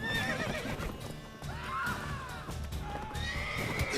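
A horse in The Witcher 3: Wild Hunt whinnies loudly several times, with shrill rising and falling calls and some background rumble and hoofbeat-like clatter.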